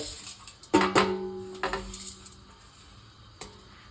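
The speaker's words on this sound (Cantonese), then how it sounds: "咁我咧就將佢倒落呢一個鑊嗰度，冇水冇油嘅，倒落去" Dried pounded rice poured into a dry wok with no water or oil gives a few sharp metallic clatters and rattles in quick bursts, then a lone clink near the end, fairly close and with no talking.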